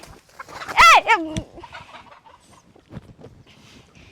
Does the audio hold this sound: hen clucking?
yes